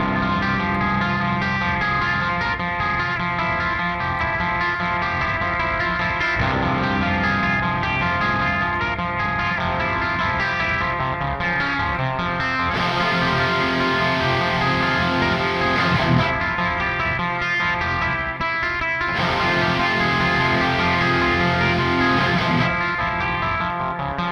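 A metal demo track plays loud and continuous, with distorted guitars and drums through a long intro and a tempo change.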